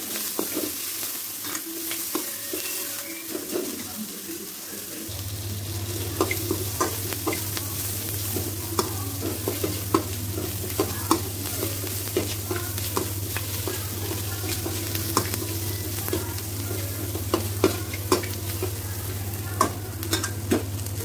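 Idli pieces frying in a pan for chilli idli, a steady sizzle with repeated scraping stir clicks throughout, a low hum entering partway through, no talking.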